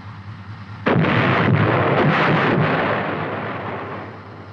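The main gun of an M551 armored reconnaissance/airborne assault vehicle fires a single heavy, booming shot, followed by a long rumbling roar that slowly fades over several seconds.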